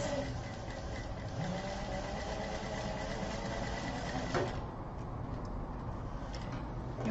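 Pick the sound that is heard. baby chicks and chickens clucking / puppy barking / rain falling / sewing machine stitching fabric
sewing machine stitching fabric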